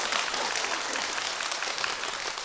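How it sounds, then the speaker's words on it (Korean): An audience at a Korean changgeuk performance claps together in a sustained, dense burst, steady and bright throughout with no voices on top. "제가 셋을 셀 테니까 박수를 10번 이상은 치셔야 돼"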